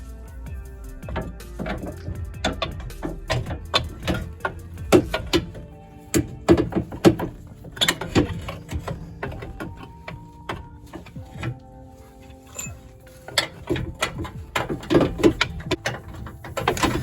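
Ratchet working on a rear control arm bolt during suspension replacement on a Pontiac G5, giving irregular metallic clicks and clanks with knocks of tools and parts, fairly close and without talk.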